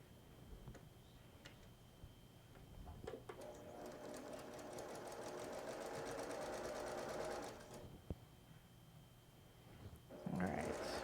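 A sewing machine stitches down a strip on a log cabin quilt block, starting with a few ticks, then running in a fast, steady whir for several seconds before slowing and stopping, followed by brief handling sounds.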